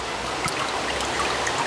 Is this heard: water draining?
yes